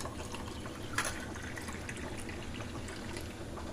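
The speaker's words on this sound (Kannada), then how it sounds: "ಒಂದು ಗ್ಲಾಸ್ ನೀರು ಹಾಕಿ" A glass of water is poured, mixed with two spoons of curd: a steady close trickling pour running throughout with one brief clink near the start.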